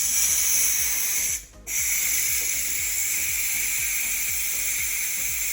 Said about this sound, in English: So I'm gonna use this spoon to release the steam.